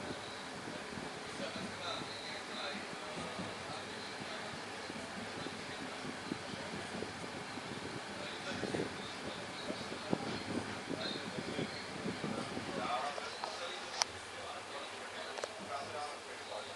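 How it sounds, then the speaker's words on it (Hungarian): Cold wind gusts roar across the microphone in a constant broadband rush at Štúrovo, with faint voices underneath. "itt fúj a szél"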